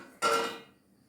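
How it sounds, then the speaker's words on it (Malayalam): A pressure cooker lid is closed after curry leaves are added to the pot. It gives one sharp metallic clank that rings briefly and fades over about half a second, close by and with no voices. "എന്നിട്ട് പ്രഷർ കുക്കർ അടച്ച് വെച്ച്"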